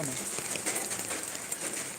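Steady rain falls outdoors near a pond, a dense continuous hiss of drops with no distinct pauses.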